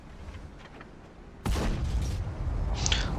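A sudden loud shot booms in a Wargaming tank battle game, followed by rumbling battlefield noise and a second crackling burst shortly after.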